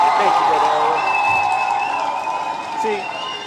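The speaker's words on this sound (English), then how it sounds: "let's give Owen a round of applause" Audience applause for a man named Owen, a steady wash of clapping and crowd noise lasting the whole few seconds with no clear break.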